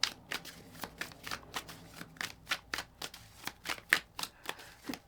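A deck of journal prompt cards is shuffled in a steady run of quick, crisp riffles, close and fairly quiet, with no one talking.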